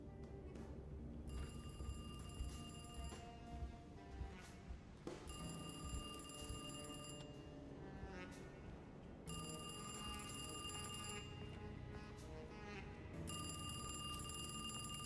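A telephone rings repeatedly in the video game Alone in the Dark, an electronic bell in long bursts separated by short gaps, with a low ambient game background beneath.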